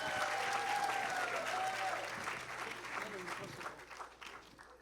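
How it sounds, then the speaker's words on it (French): Congregation applause during a bilingual church service presenting the Sunday school, fairly faint clapping from the crowd that fades over a few seconds, with a voice talking over it early on. "Let's give them a round of applause."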